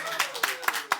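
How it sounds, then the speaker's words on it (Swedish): Brief applause for a performer at an improvised theatre show, a handful of sharp, evenly spaced claps with voices in the background. "En applåd för Sven."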